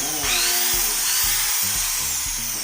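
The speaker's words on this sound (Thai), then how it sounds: "ดูการทำงานของสว่านนะครับ" An electric power drill running off an AURAS AR1000 solar power generator whirs loudly and steadily, its high motor whine running throughout with a few low bumps underneath.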